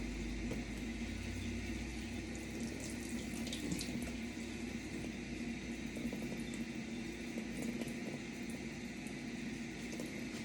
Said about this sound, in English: Give these a good rinse.